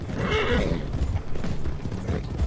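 A horse in the Red Dead Online video game, galloping in a race with rapid hoofbeats, giving a loud whinnying neigh near the start.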